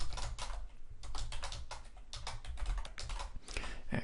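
Rapid typing on a computer keyboard while setting up an HTML page layout, a steady stream of close, crisp key clicks with brief pauses and no talking.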